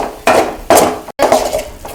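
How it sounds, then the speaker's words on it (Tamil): Crab gravy masala being stirred in a pan, with three or four close, scraping strokes against the metal and short pauses between them. "இப்போ கிண்டிக்கோங்க நல்லா."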